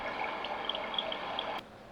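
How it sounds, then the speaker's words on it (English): A small waterfall setting on a sleep sound machine gives a steady, soft rush of running water with faint trickling flickers. It plays alone at low level, then drops quieter near the end. "small waterfall,"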